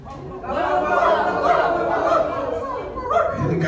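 An audience at a stand-up comedy show for retirees imitates a pack of barking dogs, with overlapping woofs and yips from many voices mixed with crowd chatter and chuckles.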